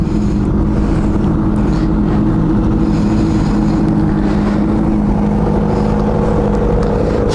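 A motorcycle engine warming up, producing a steady, loud idling rumble that runs unbroken throughout, with some wind noise over it.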